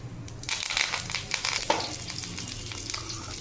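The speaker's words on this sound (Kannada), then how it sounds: "ಈಗ ಕರಿಬೇವು ಹಾಕಬೇಕ್ರಿ." Curry leaves dropped into hot oil for a tomato curry, giving a steady crackling sizzle with sharp spits and bursts, loud and close, alone without talk.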